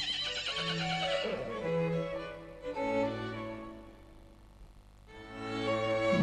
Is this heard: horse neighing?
yes